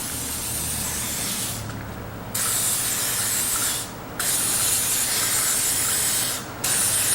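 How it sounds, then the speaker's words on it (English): PB Blaster penetrating oil sprayed onto a 1949 Allis Chalmers B tractor that had sat outside near a barn fire, heard as three long, steady aerosol hisses broken by brief pauses, close and loud with no talking. "I'm going to spray it down with some PB Blaster"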